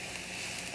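Onions sautéing in a pan for a chicken Philly wrap give off a continuous, even sizzle, close and steady with no breaks.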